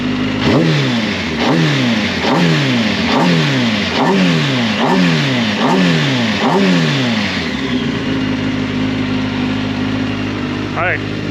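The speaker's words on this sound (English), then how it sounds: "I'm gonna give it a few revs." A Kawasaki ZX-10R motorcycle engine revs up and drops back about eight times in a steady rhythm, then settles into an even idle.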